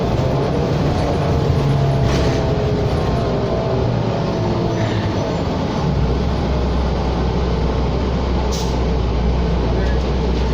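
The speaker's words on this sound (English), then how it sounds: "The bus that came off on 4 Bonnie Doon, ladies and gents." A New Flyer XD40 city bus on route 4 Bonnie Doon pulling away from a stop, a loud steady engine drone with low rumble rising as it accelerates, heard from inside with brief air hiss and someone talking.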